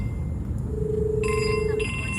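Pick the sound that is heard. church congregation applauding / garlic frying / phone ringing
phone ringing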